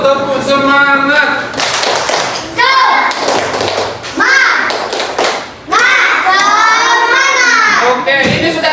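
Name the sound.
group clapping hands in encouragement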